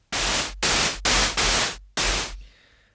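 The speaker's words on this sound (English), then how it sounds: "that will just sound like a burst of white noise like this" A synthesized white noise burst from a single noise oscillator with the low-pass filter fully open, repeated as five loud, broadband hissing pulses with short gaps between them and a faint tail at the end.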